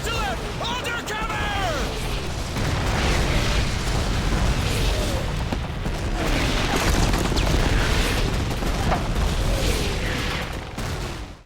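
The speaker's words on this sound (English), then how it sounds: "Wait for the barrage to lift!" Artillery barrage explosions in the WW2 shooter Call of Duty 2 roll on as a dense, continuous rumble of booms, with shouted voices near the start.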